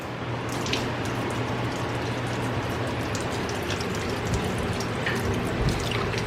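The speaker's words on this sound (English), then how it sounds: "You want to rinse them good so they're not salty." Water runs steadily from a tap over raw steaks being rinsed in a kitchen, a constant close hiss and splash with no voices.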